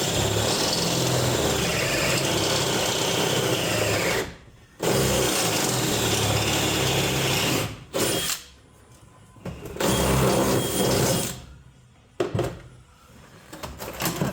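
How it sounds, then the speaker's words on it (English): A power drill bores a hole for a Jeep shifter cable in long, loud, close bursts, stopping and restarting several times with short pauses between runs. "All right, now I got to put the hole in for the cable,"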